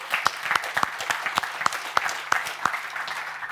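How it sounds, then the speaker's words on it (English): Light applause from a small audience at a company presentation, sparse distinct claps repeating unevenly for a few seconds. "give them a round of applause"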